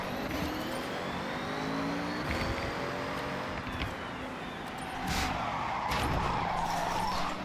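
GT car driven in the racing video game Forza Horizon 6, a steady engine drone with tire screeches and skidding throughout, shifting pitch as the car accelerates, with no talking.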